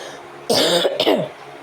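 Two short, harsh coughs in quick succession, close and loud against a quiet room, with no talking.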